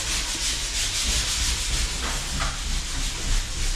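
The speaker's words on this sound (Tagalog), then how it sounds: "Yung maingay na naririnig natin, yun yung sanding." Sanding on a building renovation project, a loud continuous hissing grind that stays constant throughout without pauses, close by and dominating with no speech over it.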